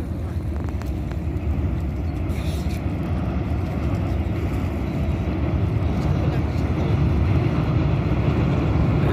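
A train crossing the bridge over the Teesta river, heading toward Jalpaiguri Road station, makes a continuous heavy low rumble. A steady wind-like roar sits over it, fairly loud and unbroken throughout.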